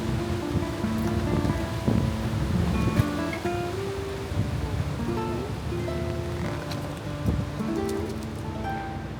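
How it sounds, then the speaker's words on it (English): Steady, roaring wind buffets the microphone at a campervan stop in Silves, Algarve, Portugal, a broad continuous rush with occasional gusts and faint rustling underneath. "Probably can't hear me, it's so windy."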